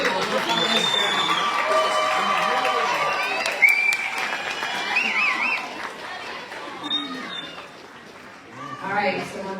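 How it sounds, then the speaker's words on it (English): Audience at a spring college commencement ceremony applauds the graduates' families, clapping and scattered cheers mixing with crowd chatter and voices throughout, fading somewhat toward the end. "Please applaud them"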